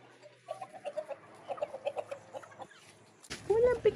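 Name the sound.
chickens clucking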